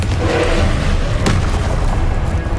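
The Confringo spell in the Hogwarts Legacy video game lands as a single deep, loud boom, with a rumbling tail that lingers to the end.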